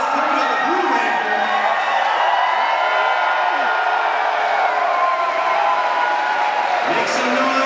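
Convention crowd at a Power Rangers Dino Super Charge panel cheering, whooping and applauding steadily and loudly throughout, a dense roar of many voices with shouts rising near the end.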